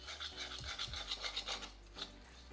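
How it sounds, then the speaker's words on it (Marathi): Melting sugar syrup for sesame papad is stirred in a pan, producing quiet rhythmic scraping strokes at a steady pace, close and with no talking. "आता तुम्ही कंटिन्यू हलवत राहा."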